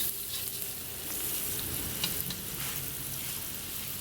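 Turmeric is stirred into greens frying in a pan, giving a soft, continuous sizzle. Scraping stir strokes rise and fall in a quiet, close kitchen setting.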